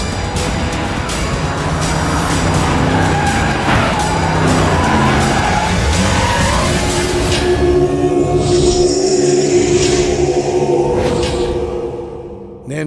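A car pulling away hard with tires skidding and squealing, loud and continuous for several seconds before the engine and tire noise fade into the distance.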